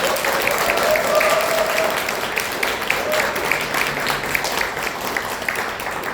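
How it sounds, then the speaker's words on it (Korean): An audience at a Korean community gathering in Corpus Christi gives sustained, steady applause welcoming a former prime minister, with a few faint voices within the crowd noise. "큰 박수 환영해 주십시오."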